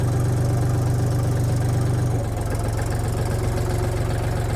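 A Foton Lovol 244 mini tractor's diesel engine chugs steadily at low revs as it pulls away in low first gear, a loud, close, even knocking rumble with no talk.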